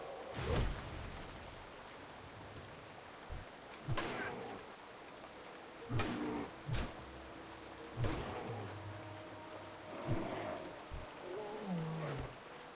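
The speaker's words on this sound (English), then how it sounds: "Medium heavy rain, I guess, is where we're at with that." Medium-heavy rain falling in World of Warcraft Classic, a steady hiss throughout, broken by occasional soft thuds and brief game effect sounds.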